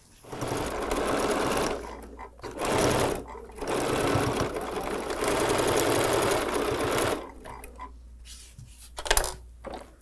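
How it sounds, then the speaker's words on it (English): A sewing machine stitches fabric pieces for an acorn table runner, sewing along a marked line in several loud bursts separated by short pauses, with a final stretch of softer handling noise. "I'm gonna pin these in place and sew right on the line from point to point"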